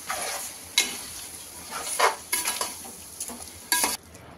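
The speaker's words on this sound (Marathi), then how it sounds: "फोडणी व्यवस्थित मिक्स करून या फोडणीमध्ये।" Quick scrapes and clinks of a spoon stirring a spice tempering with coriander leaves in a flat pan for biryani, over a soft sizzle of frying, a handful of strokes, close by.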